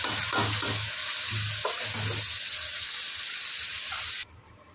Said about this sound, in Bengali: মাংস কষানো হচ্ছে একদম লো ফ্লেমে, একদম লো ফ্লেমে, যাতে মাংসটা ভালো সিদ্ধ হয়ে যায়।